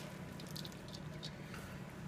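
Liquid drawn from salted shredded cabbage drips and squishes in a sauerkraut crock, soft wet patters scattered over a steady low room hum, close by.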